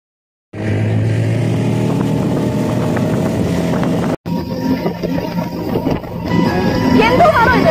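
A speedboat ride on the Kainakari backwaters: a loud, close engine roar starts abruptly, cuts out for a moment, then returns with rushing wind and water, and voices are heard.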